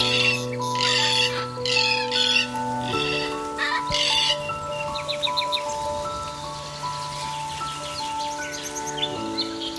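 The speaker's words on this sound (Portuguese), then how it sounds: "o som das ondas se mistura ao canto distante das aves" Distant birds chirp and call in the Panama jungle, faint high twitters scattered over steady, sustained musical tones.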